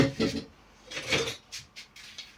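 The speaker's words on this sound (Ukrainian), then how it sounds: "грибочки висипаємо в каструльку" Boiled mushrooms, rinsed twice, are tipped into a saucepan for Polish-style marinated mushrooms in tomato paste, giving a few close, clattering bursts of utensil and pot noise with brief pauses between them.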